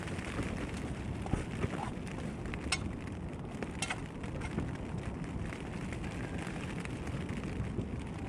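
Steady, dense rain hisses without a break, a broad constant wash of heavy downpour with no voices.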